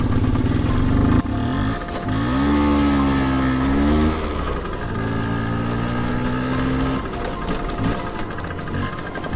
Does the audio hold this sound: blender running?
no